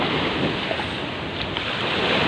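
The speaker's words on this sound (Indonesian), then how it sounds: "Soalnya ombaknya besar banget ini." Big ocean waves breaking on a clean tropical beach, a continuous loud wash of surf with wind buffeting the microphone throughout, no voices.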